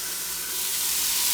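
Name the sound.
onion and ginger sizzling in a pan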